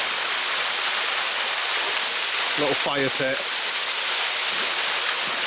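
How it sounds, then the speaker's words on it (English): A waterfall beside a wild camp in Humberside pours as a steady, dense rushing hiss that fills the whole clip, with someone speaking briefly over it midway. "with the waterfall there in the background."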